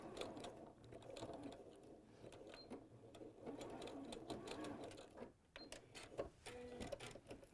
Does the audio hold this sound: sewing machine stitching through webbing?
yes